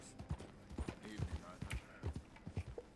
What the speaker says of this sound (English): this is a horse, which can also move fast